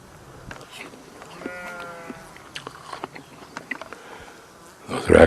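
Sheep bleating on a mountainside in Durmitor National Park, a few calls rising over a quiet open-air background with scattered small sounds, ending in a brief burst of noise close by.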